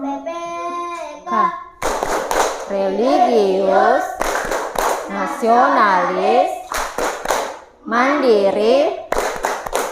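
A group performs the Tepuk PPK yell, clapping hands together in crisp rhythmic bursts between lines that a leader and the group chant loudly in unison; the claps fall in tight patterned clusters close by.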